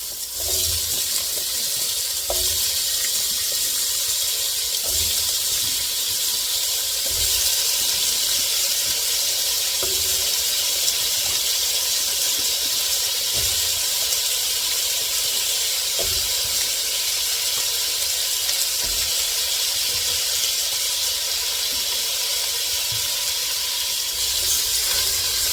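Potatoes sizzling in hot oil alongside bacon and green beans in a pan, a loud, steady hiss with faint crackles and occasional soft pops, continuing unbroken and close for the whole stretch.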